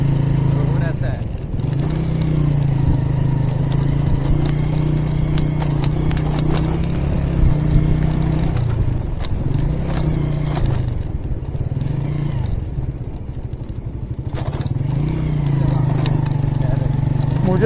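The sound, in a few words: motorcycle riding over a bumpy brick road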